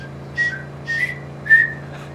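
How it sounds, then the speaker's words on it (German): A person whistles three short rising notes in a row with brief gaps between them. The whistling is clear and close over a low steady hum from a GTA 5 Online game session. "Ich kann das pfeifen."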